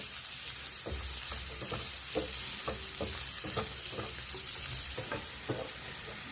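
Chopped onion sizzles and fries in a pan as a steady crackle, with a spatula scraping and stirring in repeated close strokes and no talking.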